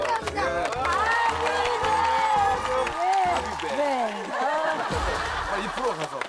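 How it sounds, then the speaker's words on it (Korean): A studio audience on a Korean variety show claps and cheers for Chansung of 2PM, dense applause and crowd noise throughout with someone speaking briefly over it. "우리 찬성군에 박수 한번 줍시다"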